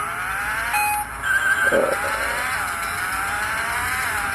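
A Honda Civic races in the video game GT Racing, played on a handheld retro console, with a continuous whining engine note that rises and shifts in pitch and a brief tire squeal, no voices.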